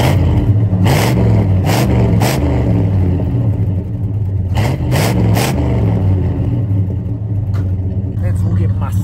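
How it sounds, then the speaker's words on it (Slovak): A 1979 lowrider's 7-litre V8 with a tuned exhaust rumbles loudly and steadily throughout, with a few brief sharper revving bursts near the start and middle. "zvuk tohoto auta je docela brutálny, ale nič iné od 7-litrového 8-valca s poladeným výfukom ani nemôže čakať"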